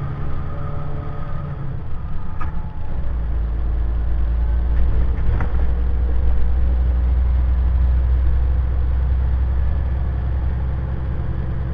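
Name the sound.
pickup truck driving, engine running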